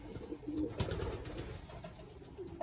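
Pigeons in a racing pigeon loft give low, soft coos, faint and continuous against a steady murmur of background noise, with no talk.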